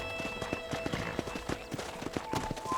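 Horse hooves clip-clop in the video game Red Dead Redemption, a quick, rhythmic run of close, crisp knocks at a trotting pace, with a faint tonal game sound underneath.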